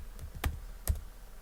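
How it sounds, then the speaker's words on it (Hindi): Two crisp keystrokes on a computer keyboard while working in MS Word, each a short, close click about half a second apart, in a quiet room. "उसके बाद अपने कीबोर्ड से इंटर बटन पे प्रेस करेंगे।"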